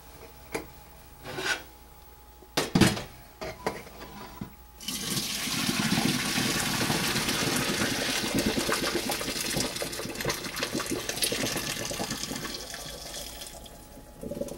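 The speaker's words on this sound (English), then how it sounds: "Now I want to drain this water out of here." Water from a pot of boiled chicken wings pours into a kitchen sink, a steady loud rushing gush that starts after a few seconds of small clatters and knocks and keeps going for about ten seconds.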